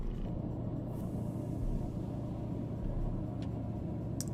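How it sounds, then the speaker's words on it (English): Steady low diesel rumble from a Scania truck in Euro Truck Simulator 2, heard from the cab and holding an even drone with no talk over it. "Just start your ASMR therapy with the sounds of this truck."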